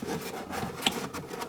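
Brief creaking, rubbing scrape of a Toyota Corolla rear bumper cover being pulled open, a plastic grinding with one sharp snap midway, close and fairly quiet.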